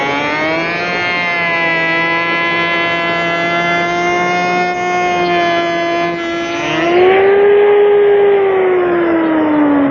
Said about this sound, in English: I'm going to set it in the router, tighten it down, and I'm going to slow the router speed down to its slowest speed.